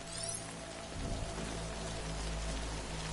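Rain falls in the video game Death Stranding, a soft, steady, continuous hiss of drops with low rumbling underneath, faint and even throughout.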